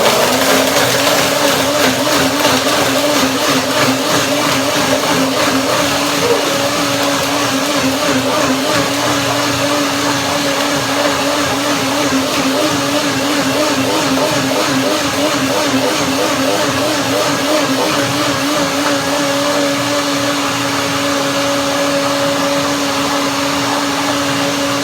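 A hand blender whirs steadily and loudly while mixing flaxseed oatmeal with berries, a continuous motor drone with a slight wavering pitch that carries through the whole stretch.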